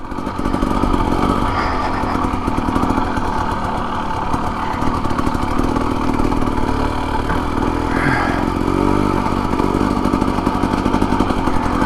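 A Husqvarna TE250 dirt bike engine drones loud and steady in second gear on a rocky trail, a constant close buzzing run with slight rises in revs and rattling clatter throughout, no voices.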